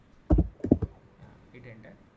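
Typing git commands on a computer keyboard: a quick cluster of close key clicks and taps, followed by quieter murmured speech.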